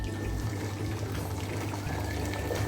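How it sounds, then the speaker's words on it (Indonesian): Water poured into a cooking pot while making a layered cake, a short steady splashing pour heard close up and fairly quiet. "Berarti ini harus saya kasih air lagi."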